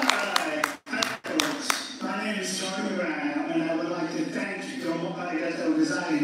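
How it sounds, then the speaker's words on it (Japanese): Audience applause at a speaking event, a short burst of claps near the start broken by brief pauses, then a steady wash of clapping that carries on under talking voices. "皆様、大きな拍手をお願いいたします。"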